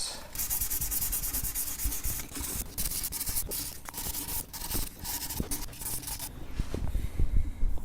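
A Martin 000-15S mahogany-top guitar is polished with 1000-grit sandpaper, producing continuous close rubbing and scratchy sanding strokes with short pauses between passes.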